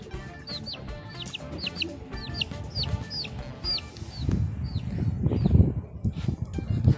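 Chickens, including a red hen, cluck in short repeated bursts close by in a yard, with rustling and scuffling noises building underneath toward the end.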